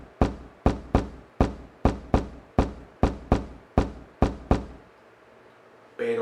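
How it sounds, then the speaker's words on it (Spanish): A door in a home knocked in a rhythmic pattern, about a dozen close, sharp raps in a beat-like sequence, then a short quiet stretch before a brief noise at the end. "También se puede tocar la puerta con ritmo."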